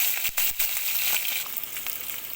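Shrimp frying in hot oil in a pan, a dense close sizzle with crackling pops and a few sharp spits over about two seconds, with no voices.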